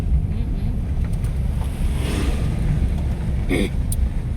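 Steady rushing surf with a soft wash of waves and some wind, fairly close and unbroken, with no voices.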